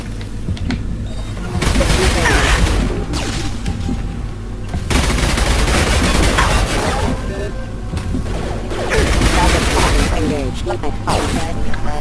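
Sustained gunfire in the video game Mass Effect 2, dense bursts of shots and impacts rolling on loudly in waves, with voices talking over the combat.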